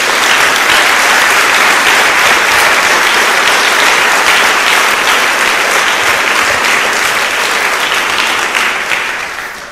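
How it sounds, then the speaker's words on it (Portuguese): Sustained, loud applause from a church congregation, dense steady clapping filling the room for several seconds before tapering off at the end. "Dê uma salva de palmas a Jesus."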